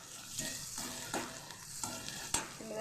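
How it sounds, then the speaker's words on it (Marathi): Onion frying in a pan for a Maharashtrian vegetable dish, a steady close sizzle broken by a few brief scrapes of a stirring spoon. "चांगला कांदा परतून घ्यायचा माझा कांदा असं चांगला परतून झालाय लालसर"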